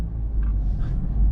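A Honda Civic Type R engine idles steadily with a low rumble, its deep exhaust drone heard from inside the car.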